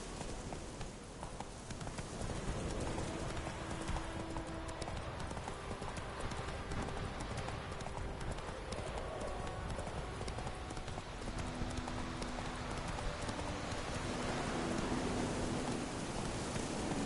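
A horse gallops in The Witcher 3, its hooves clip-clopping in a continuous rhythm for the whole stretch, fairly quiet and blended with a constant soft hiss.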